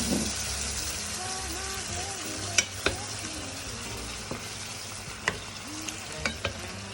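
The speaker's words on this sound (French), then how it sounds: "on prend un petit peu de vin blanc et on va déglacer" White wine poured over browned chicken pieces in a sauté pan to deglaze them, giving a steady close sizzle with a few sharp clicks and scrapes from utensils against the pan.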